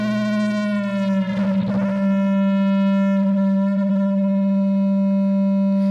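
A loud, steady feedback tone rings continuously, a piercing hum with a brief warbling flutter partway through.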